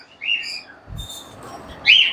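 Caged Java sparrows and doves at a bird market give short, bright chirps in two bursts close by, separated by a soft low thump. Nobody speaks.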